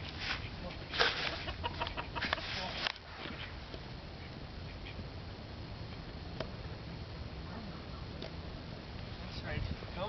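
Chickens being herded on foot cluck softly and intermittently among scattered clicks and rustling, while a person talks over them throughout.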